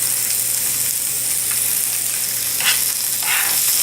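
Peppers with chopped yellow and orange onion fry on a hot griddle for a cheesesteak. The sizzle is a steady, close hiss that runs the whole time with no talking.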